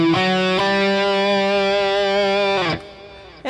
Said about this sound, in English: you'll notice I have a little bit of delay on my guitar, a little bit of reverb